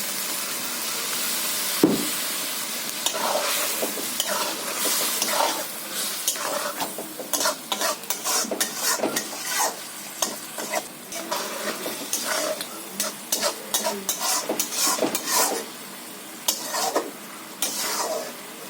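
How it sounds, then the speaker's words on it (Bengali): A pot of prawn curry simmers and sizzles after water is poured in. A spoon stirs and scrapes against the pan throughout in a steady series of clattering strokes. "বন্ধুরা আমি জল দিয়ে দিচ্ছি তরকারির মধ্যে"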